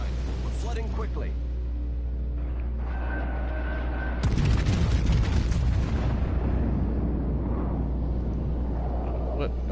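Torpedoes striking a King George V battleship in World of Warships Legends, a heavy booming explosion midway over a low engine rumble, followed by rushing flooding noise and game alert tones.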